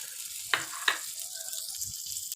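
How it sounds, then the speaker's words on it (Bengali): Butter sizzles in a pan over medium heat while oats and vegetable balls are fried, a soft steady crackle with two sharp clinks of a utensil near the start. "দেখুন আমার সবকটাতে বাটার দেওয়া হয়ে গেছে, এবার বলগুলো দিয়ে দেবো আস্তে আস্তে"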